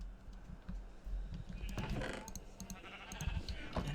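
Sheep bleating in Minecraft, a couple of short bleats amid a busy background of clicks and tapping noises, moderately loud with no speech.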